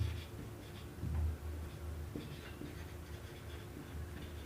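Chalk or marker scratches across a classroom board in short strokes during a maths lesson, faint and quiet over a steady low room hum, with no one talking.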